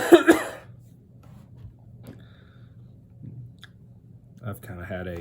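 A person with a sore throat gives two quick sharp coughs close to the microphone, followed by quiet breathing and soft mouth clicks, then brief speech near the end.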